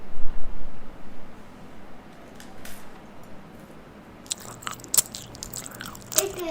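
Biting into an ice cream biscuit with sprinkles, a few crisp crunches close to the mic followed by quieter chewing over a soft hissing background.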